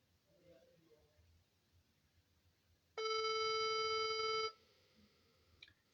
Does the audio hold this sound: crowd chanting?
no